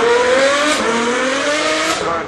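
Pair of Ferraris, one with a 6.3-litre twin-turbo V12, launching hard off the start line at the Goodwood Festival of Speed: a loud, continuous engine roar with rising revs, close and steady throughout.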